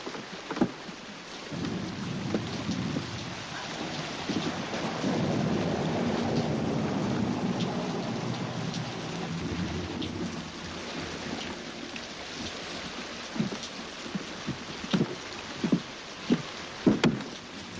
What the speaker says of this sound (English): it's raining. It's raining like hell.